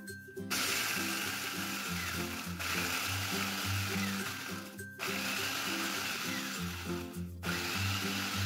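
An electric food chopper grinds Marie biscuits into crumbs, a loud whirring buzz running in bursts with brief stops between pulses, close and continuous, no voices.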